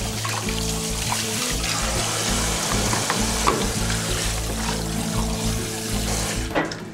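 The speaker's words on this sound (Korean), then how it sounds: "별다른 양념 없이 끓는 물에 삶아내는데요" A freshly caught octopus is boiled in plain water without seasoning at Uljin's Gusan port, with steady, close bubbling and hissing that churns on continuously alone.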